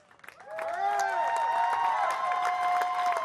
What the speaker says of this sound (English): Let's give it a nice round of applause for our 2 finalists.